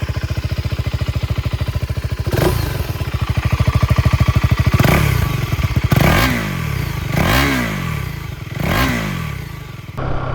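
A KTM 390 SMC R motorcycle engine idles with a steady throb, then revs up repeatedly toward 5000 rpm, with sharp pops as gears shift via quickshifter between rising bursts.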